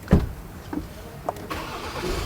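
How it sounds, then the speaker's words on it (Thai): An Isuzu Stormtrak 4x2 top-trim pickup is started by push button: a few soft clicks, then the engine catches and settles into a low, fairly quiet idle inside the cab. "เหยียบเบรกสตาร์ทรถก็ติดเลยนะครับ"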